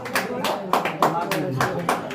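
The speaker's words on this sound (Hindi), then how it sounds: "तालियों से स्वागत कीजिए।" An audience at a prize distribution ceremony claps for a medal winner, a short burst of scattered, uneven hand claps in a room, over a voice speaking.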